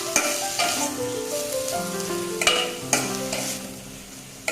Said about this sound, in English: We'll cook the tomatoes now along with the onion till they are nicely cooked and little bit soft.